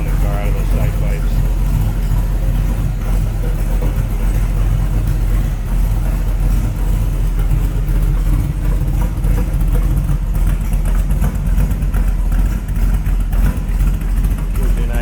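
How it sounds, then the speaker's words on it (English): A 1966 Shelby Cobra replica built by Classic Roadsters Ltd. runs its 302 V8 through chromed side pipes, giving a steady, deep, close idle rumble with a throaty low burble, and a voice talks over it throughout. "Great sounding car out of those side pipes."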